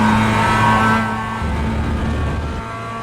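Mazda MX5 production race car engine at Silverstone in the iRacing sim, a loud steady high drone held flat out from the cockpit view, its pitch dipping slightly partway through.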